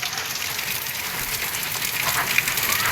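Heavy rain mixed with hail pouring down in a village, a loud, dense, continuous hiss of drops striking surfaces close by.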